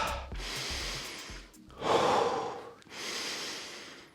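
Heavy breathing while resting after a towel workout: three long, loud breaths with audible exhales, the middle one strongest and slightly raspy, close to the microphone with no talking.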